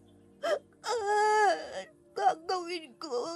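A human voice imitates an aswang creature howling outside a door, giving drawn-out, wavering wails and moans in several bursts with short breaks between them.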